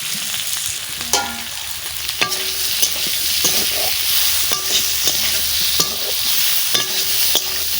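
Soybean chunks frying in a pan for a homemade idli meal, a continuous crackling sizzle with sharp clinks and scrapes of a spoon against metal at irregular intervals; nobody speaks.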